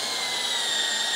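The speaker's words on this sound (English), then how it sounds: "now we're gonna take a drill, and all we're gonna do is we're gonna drop in here, and we're gonna drill us a starter hole" Power drill boring a starter hole for a saw blade in a Harley-Davidson speaker install, a steady high-pitched whine held throughout without pause, fairly close and loud, with no talk.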